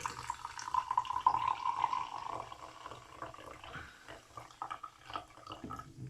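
Monster Pipeline Punch energy drink pours from an aluminium bottle into a glass, a faint gurgling trickle with a few soft splashes, quiet and close.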